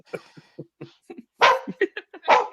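A pet dog named Sadie barks in short, sharp bursts, about a dozen irregular yips and woofs close by, with louder barks toward the end.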